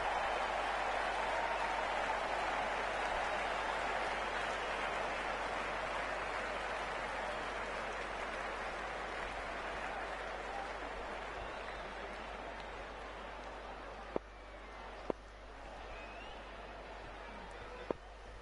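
A stadium crowd in the cricket game Cricket 19 applauds and roars in a sustained, even wash that slowly fades, followed by a few sharp clicks near the end.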